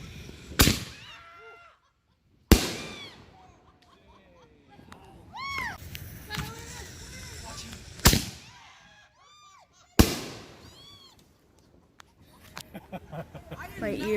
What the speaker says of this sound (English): This is called Epic Force. 27 shots.